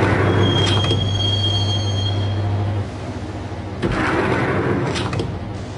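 Train ride in a Max Payne-style video game: a steady, loud rumble of a moving railcar with rolling wheel noise, a thin high squeal and a low hum that cuts out partway, and a few clanks over the continuous roar.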